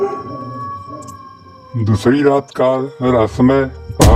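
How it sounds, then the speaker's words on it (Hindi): Dogs howl at night as a story sound effect, drawn-out wavering howls in several bursts that swell loud, following a calm narrating voice. "कुत्ते भौंक रहे थे।"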